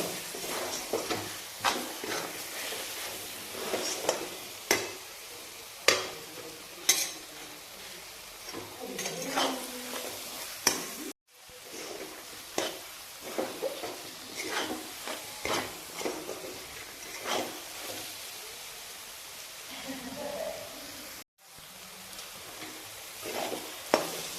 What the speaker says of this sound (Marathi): हे सर्व चांगलं मिक्स करून परतून घेऊ